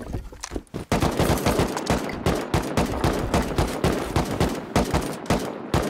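Heavy, rapid gunfire during a fight in the video game Rust, with dense automatic bursts and close shots repeating loudly throughout.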